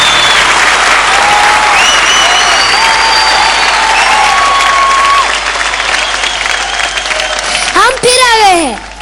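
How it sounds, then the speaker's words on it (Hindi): A studio audience on the TV show Lux Perfect Bride breaks into loud, sustained applause and some cheering over a bright musical melody, which ends in a swooping flourish near the close. "फिलहाल जोरदार तालियां बजाइए, क्योंकि एक और कुंवर और कन्या पधार रहे हैं"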